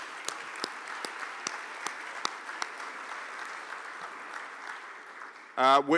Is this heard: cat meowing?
no